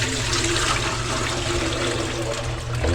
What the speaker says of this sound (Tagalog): Lalagay na tayo ng tubig.